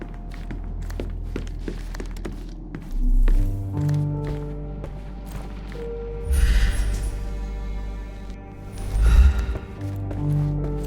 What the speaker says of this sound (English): I heard footsteps upstairs a second ago.